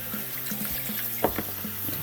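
A dirty Aqueon aquarium canister filter sponge is squeezed over a sink, with dripping and sloshing water and a few soft squelches over steady running water.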